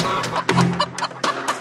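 Cartoon chicken clucking in a folk-tale animation, several sharp clucks in an uneven rhythm, close and loud with no voices over them.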